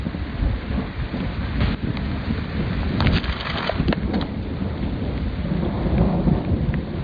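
Heavy, incessant rain pours steadily through a supercell thunderstorm near Saint-Cyr-au-Mont-d'Or, Rhône-Alpes, with rumbling thunder and scattered sharp drop impacts close to the microphone; no voices.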